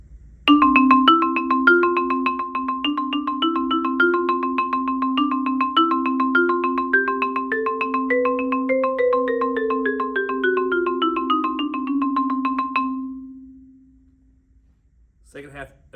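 A keyboard plays a rising and falling scale in the right hand over sustained low left-hand notes, evenly paced, then fades out into near silence.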